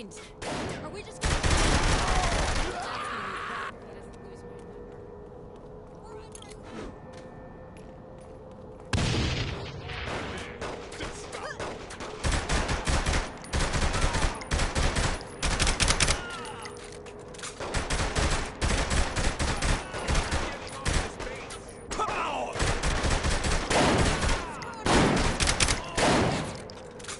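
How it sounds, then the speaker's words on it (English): Bursts of gunfire from the player shooting at guards in the game Saints Row The Third, heavy rapid volleys in long loud stretches separated by a quieter lull, with occasional voices in between. "Shooting them probably doesn't help change their mind."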